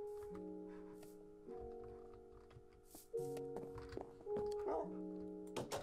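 Tamed wolf dogs in Minecraft give short yips and whimpers over a soft game background, with brief thunks and scattered clicks near the end.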